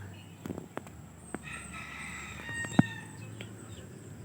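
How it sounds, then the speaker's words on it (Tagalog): Chickens and small chicks in a simple coop, with a brief rooster-like crow and scattered clucks and cheeps at moderate distance over steady background noise. "Yan yung mga sisiw."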